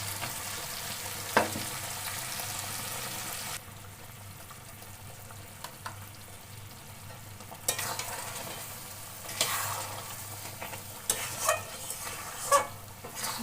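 Mango pickle for 1.5 kg of mangoes, cooked down with date palm jaggery, sizzles gently in a pan while a spoon stirs and scrapes in intermittent strokes, with a few sharper knocks against the pan.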